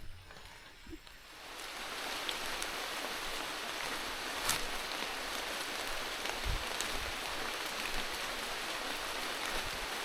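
Rain falls steadily in a forest, a dense even hiss of drops on leaves and ground that holds at a constant level throughout, with a few louder drips standing out.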